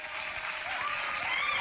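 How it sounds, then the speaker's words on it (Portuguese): A radio studio audience gives a round of applause for Ismael, steady dense clapping that holds at an even level through the whole short stretch. "Uma salva de palmas pro Ismael que agora deu certo."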